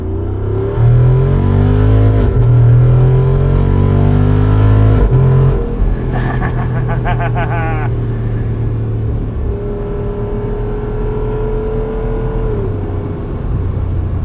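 A 2024 Jeep Wrangler 392 V8 revs hard, then drops off as quick throttle blips punctuate a downshift, settling into a loud, steady engine drone with another rise near the end.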